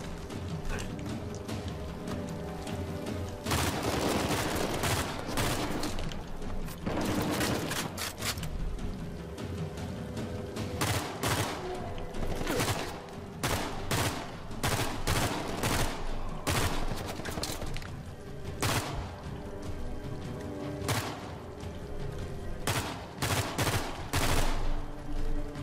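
Rapid bursts of weapon fire in Uncharted 4, volleys of shots and automatic fire repeating across the whole stretch with brief gaps, loud and close, alongside mechanical clicks and clatter.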